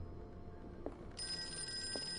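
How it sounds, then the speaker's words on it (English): An old-style telephone bell rings in Call of Cthulhu, a steady electronic trill starting partway through over a low ambient hum, with a couple of soft knocks around it. "A phone call is never good."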